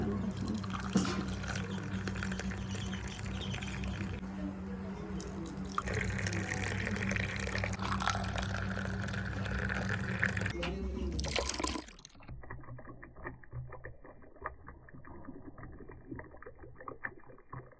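Milk tea pours into cups set down on a surface in a village mud house, a close, continuous liquid stream with splashes and drips that stops abruptly, leaving faint background sound.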